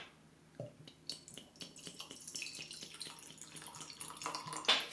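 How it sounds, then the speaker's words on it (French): Cider vinegar is poured into honey, giving a faint, close trickle with soft drips and small clinks that build slightly toward the end. "Je vais rajouter un peu de vinaigre de cidre."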